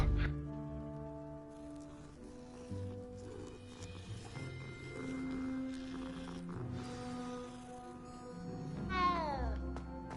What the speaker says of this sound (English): Ah, he had a nice meow.